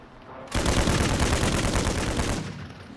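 Gunfire in the Warzone video game, a dense burst of rapid shots lasting about two seconds, loud and close, with no talking.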